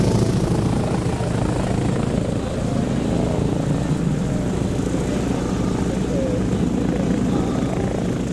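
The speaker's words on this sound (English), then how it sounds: "We'll see some of the arrivals of the aircraft literally taxiing right past us." Propeller aircraft taxi past at the Little Gransden air show, a loud steady engine drone close by with a dense rumbling roar throughout and some voices underneath.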